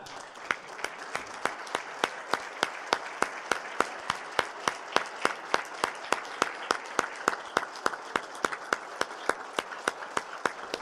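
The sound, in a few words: applause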